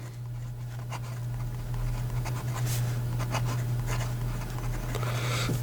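A medium steel-nib Jean Pierre Lepine Yuzu fountain pen writes on paper in a soft, continuous scratchy rustle with faint stroke accents, heard close up over a steady low electrical hum.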